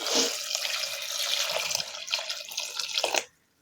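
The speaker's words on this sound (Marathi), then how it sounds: "थोडंसं गरम पाणी घालते" Hot water splashes and gurgles from a pouring stream onto cut cauliflower pieces in a vessel, steady and close for about three seconds before stopping abruptly.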